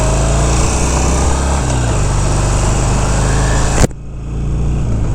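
A Harley-Davidson Sportster 883 motorcycle idles while warming up, a loud steady close-up engine drone with a rhythmic low throb that cuts off abruptly near the end, leaving quieter background noise.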